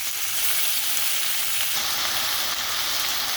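Chicken pieces being stirred and fried in a karahi for black pepper chicken karahi, a steady, loud, dense sizzle of hot oil that holds evenly throughout with no talking.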